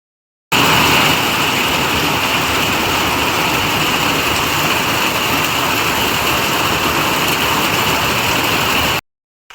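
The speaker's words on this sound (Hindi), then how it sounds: "यहाँ इतनी तेज बारिश हो रही है" Heavy rain pours down in a hillside area as a dense, unbroken hiss, loud and constant from start to finish, with no voices.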